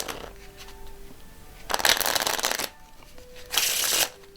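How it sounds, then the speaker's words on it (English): A deck of playing cards is riffled in two short, crisp bursts of papery fluttering, each lasting under a second, close and fairly loud against a quiet background. "As I say, you can do this with the borrowed deck, and you can give them a shuffle"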